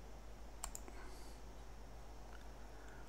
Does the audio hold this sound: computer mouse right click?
yes